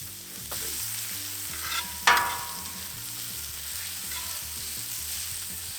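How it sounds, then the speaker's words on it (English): Onions sizzle on a hot Camp Chef griddle while a spatula mixes them, giving a steady frying hiss with repeated scraping strokes and one sharp metallic clatter partway through. "I'm going to throw the onions right on top"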